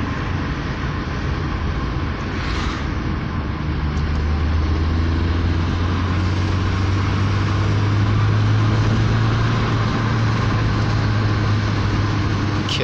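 A car engine revs up to about 3000 rpm against its cut-off system, a loud sustained drone that holds steady at one pitch before rising slightly, close and continuous.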